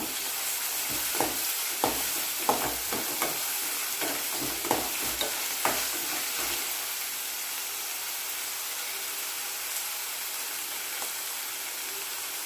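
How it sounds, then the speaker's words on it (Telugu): Ginger garlic paste frying and being stirred in a pan for gongura mutton curry, with a steady sizzle and a run of close spoon scrapes at the start that give way to continuous hissing frying. "అల్లం వెల్లుల్లి పేస్ట్ కూడా వేసి పచ్చివాసన పోయేంత వరకు కలుపుకోవాలి"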